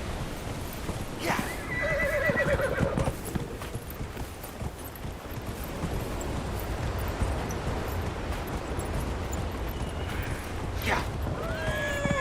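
A horse in Dragon Age Inquisition whinnies loudly near the start and again later, over continuous clip-clop of hooves and a rushing background wash, with a voice talking at times.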